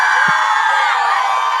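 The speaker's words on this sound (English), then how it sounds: "That was one more round of applause." Audience in a podcast studio applauding and cheering, a dense steady wash of clapping and crowd noise throughout, fairly loud and without pauses.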